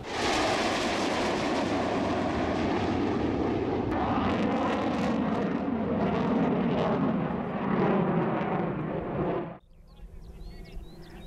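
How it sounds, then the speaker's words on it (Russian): Loud, continuous roar of military jet engines at close range during an air show aerobatic display, likely MiG-29 fighters in Baranovichi, swelling and surging for about ten seconds before cutting off abruptly to quieter background. "Высший пилотаж на боевых самолетах."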